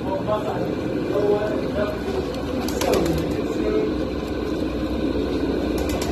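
Pigeons and doves cooing at a busy outdoor bird market, low soft coos mixed with traffic and engine hum while people talk nearby.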